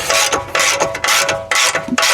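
A hand ratchet clicks in quick bursts of rapid pawl ticks, with brief pauses between strokes, as a suspension arm bolt is tightened on a 2016 Volvo XC90 T8 with air suspension, close up and with no talk.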